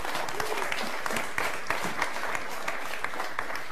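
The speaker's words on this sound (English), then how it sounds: "Let's give a big round of applause." An audience at a chess event applauds steadily, a continuous wash of many hands clapping at even loudness throughout, with no pauses.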